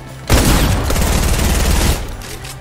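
Rapid burst of video game gunfire, a dense rattling volley lasting under two seconds, loud and close, set against quieter background game noise.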